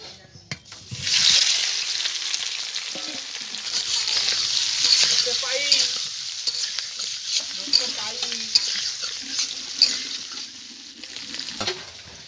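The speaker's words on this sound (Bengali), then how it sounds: "তেল গরম হয়ে গেছে, এবার আমি এই সেদ্ধ করা আলুগুলোকে ভেজে নেব।" Boiled potatoes sizzle and fry in hot mustard oil in a wok, a steady close crackle with occasional stirring scrapes running throughout, with no talk over it.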